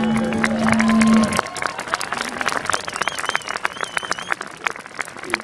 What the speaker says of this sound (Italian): E qui parte il primo applauso spontaneo del pubblico.